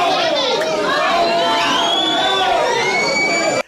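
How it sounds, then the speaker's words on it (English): A crowd cheers wildly at a UDA certificate handover at St. Bakita, Bomet, with loud, dense shouting and shrill sliding cries sustained throughout before cutting off abruptly at the end. "the crowd went wild"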